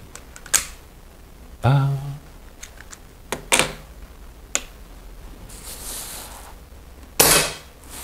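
An air rifle fires a lightweight diabolo pellet through a chronograph, giving one sharp crack among a few other clicks and taps in a quiet room, close and fairly loud.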